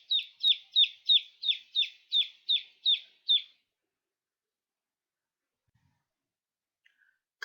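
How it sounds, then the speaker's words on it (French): Frightened chicks cheep as they scatter. About eleven high, evenly spaced peeps sound in a quick rhythmic run, clear and close, followed by silence and a faint sound at the very end. "les pauvres poussins effrayés courent dans tous les sens en piaillant"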